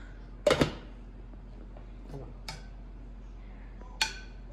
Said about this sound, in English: Okay, put your lid on.